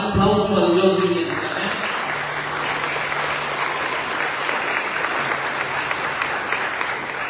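A church congregation applauds, a dense steady wash of clapping that starts just after a voice trails off and holds at even loudness.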